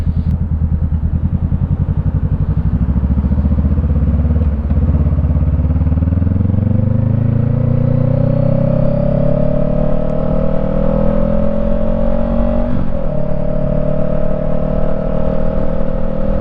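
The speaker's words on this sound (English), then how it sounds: "Just giving a little revs, that way when I put in first gear, it's not so clunky." A 2017 Honda CB500F motorcycle engine revs close up, starting from a rough idle and climbing in pitch as the throttle opens, then holding a steady high whine.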